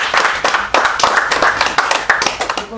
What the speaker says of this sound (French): Est-ce qu'on peut applaudir?